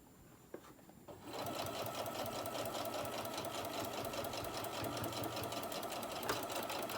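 A sewing machine runs steadily, stitching a zippered fabric pencil pouch down to the end of the seam, starting after a brief quiet moment and then humming continuously at close range.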